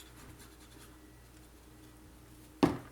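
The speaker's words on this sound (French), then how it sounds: "je mets de la colle d'un côté." Glue is spread on paper for a scrapbook album page with a faint, continuous scratchy rubbing, like writing, ending in a single sharp tap.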